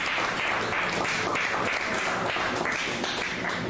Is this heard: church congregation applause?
yes